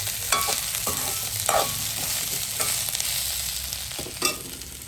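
Potatoes fry in hot oil with a dense, steady hiss and crackle, close and loud, while a few sharper clinks and scrapes of a utensil in the pan break through at intervals; no voices.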